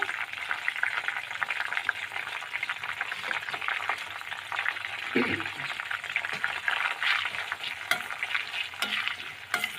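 Hibiscus flowers, curry leaves and neem leaves crackle and sizzle in hot homemade hair oil on a low flame, a steady close frying hiss with occasional stirring clinks and a brief voice.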